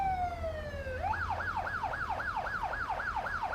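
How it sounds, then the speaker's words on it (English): A police car siren sounds loud and close: a steady rising wail for about a second, then a fast repeating yelp that cycles evenly through the rest, over a low hum of road noise. "The sound of a police siren cut through her last har."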